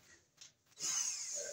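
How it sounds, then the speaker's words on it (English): A screw driven as a drill bit punches a ground-screw hole in the back of a metal electrical box for a workbench outlet, a steady whining grind starting after a couple of quiet taps and running to the end. "I'll drill a hole with this screw for our ground screw"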